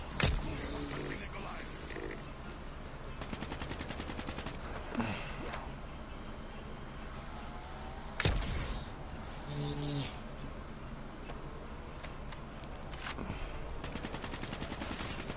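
Gunfire from a waffle gun in the zombie game Zombinos, with rapid bursts of shots and a couple of heavier blasts, mixed with game noise and creature grunts over a busy, dense backdrop.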